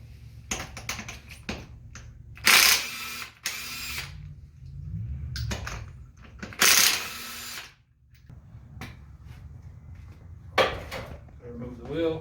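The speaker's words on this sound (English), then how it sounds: "Now I'm going to remove the 5 lug nuts." A power tool in short bursts spins the lug nuts off a 2004 Jeep Grand Cherokee wheel, with sharp loud whirring spurts separated by clicks and handling clatter, and a person talks in between.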